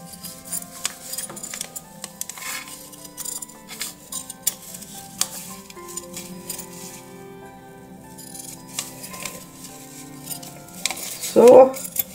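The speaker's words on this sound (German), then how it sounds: "Jetzt schneide ich das aber mit 1 cm Nahtzugabe hier dran vorbei." Scissors cutting fabric scraps with a 1 cm seam allowance for a pincushion make sparse, close snips and small clicks with quiet handling sounds in between, ending with a brief louder clatter.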